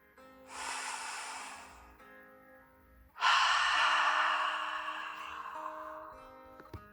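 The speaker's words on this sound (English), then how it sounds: "Bodhi took deep dragon breaths in and out." Two slow, deep breaths, each a long airy exhale that swells and then fades, heard close up in a quiet room with a faint tonal hum underneath.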